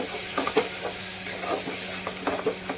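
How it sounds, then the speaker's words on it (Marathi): Masala spices drop into very hot oil in a pan for a chicken curry. A steady hiss of sizzling runs throughout, with a few short stirring scrapes and spits rising above it. No one talks. "आणि आता वरतून इथे मी मसाले टाकते, कारण तेल जास्त गरम झालं होतं"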